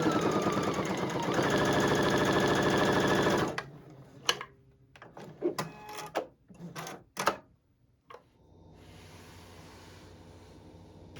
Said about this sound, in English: Next, I'm sewing the brim pieces together.